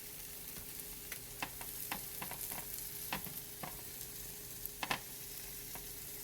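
Maamoul date-filled dough cooks in a takoyaki pan with a quiet, steady sizzle, broken by occasional light clicks and taps of a utensil, no speech.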